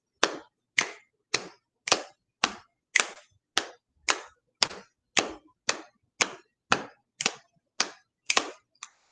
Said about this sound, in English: So you would need to have one hand that's patting, one hand that's snapping or crabbing.